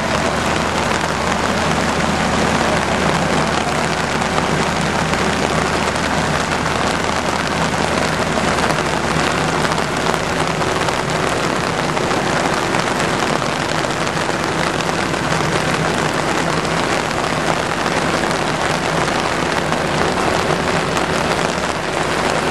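Heavy rain falls steadily in a dense, loud wash of drops on surfaces, continuous and unbroken throughout, with a low rumble underneath and no voices.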